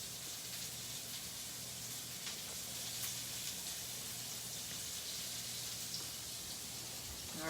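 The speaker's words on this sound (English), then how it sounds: "Our chicken is sizzling." Chicken sizzling in a pan of hot oil, a steady close hiss and crackle that runs on without pause, faint and even throughout.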